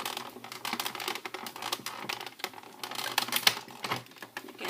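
A manual die-cutting machine being cranked by hand as a cutting die passes through it, producing a steady stream of dense, rapid mechanical clicks and ratcheting taps, close and fairly quiet, with no speech.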